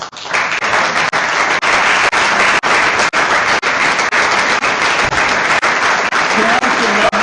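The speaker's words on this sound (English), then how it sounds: "we should give them a round of applause." Audience gives a sustained, loud round of applause for parents and loved ones at an awards ceremony, continuous dense clapping throughout with brief dips.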